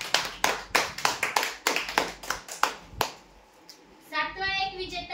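Applause for a prize winner at a lottery draw, a burst of claps from a small crowd that tapers off within about three seconds, followed by quieter background sounds.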